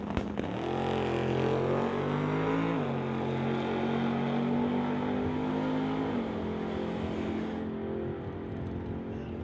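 Drag race launch at an NHRA Summit ET bracket final: a 414 small block Chevy and a 1969 Chevelle, engines roaring loud and steady, pitch rising in stages as the cars pull away, fading slightly near the end.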